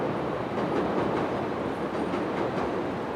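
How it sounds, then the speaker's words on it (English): A train passes nearby in Chicago, a steady loud rolling rumble with faint rhythmic clickety-clack of wheels on rails and no voices. "look at that, a train."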